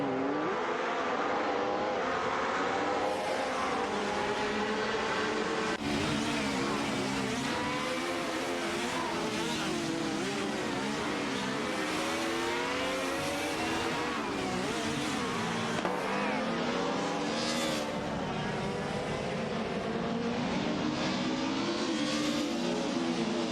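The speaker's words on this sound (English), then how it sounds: "get ready for some epic AI race car action" Mercedes 190 Evo 2 and Alfa Romeo 155 race cars in an AI racing video game, engines droning and revving steadily with rising and falling pitch as they run close together, loud and continuous throughout.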